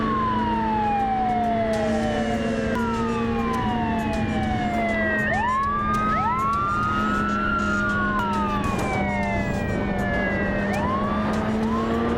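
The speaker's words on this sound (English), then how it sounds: "Several police officers on motorcycles locked on, sirens blaring" Wailing sirens from several police motorcycles overlap and sweep up and down, loud and continuous over a steady engine rumble.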